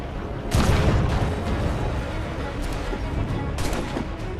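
Rapid bursts of swivel gun fire during a ship boarding in Assassin's Creed 4: Black Flag, a loud blast opening and later volleys over a continuous roar of battle noise.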